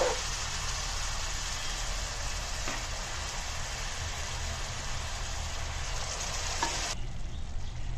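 Half a kilo of precooked beef with Chinese potato (koorka) frying in browned masala for Kerala beef ularthu, a steady close sizzle with stirring scrapes throughout, no voices.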